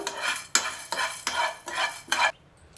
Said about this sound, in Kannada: ಸಾಸಿವೆ ಮತ್ತು ಜೀರಿಗೆ ಎಲ್ಲನೂ ಕೂಡ ಒಂದೇ ಸಲ ಹಾಕ್ಕೊಂಡು ಫ್ರೈ ಮಾಡ್ಕೊತಾ ಇದ್ದೀನಿ